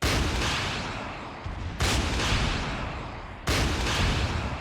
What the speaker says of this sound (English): fire a rocket or two, just to say I did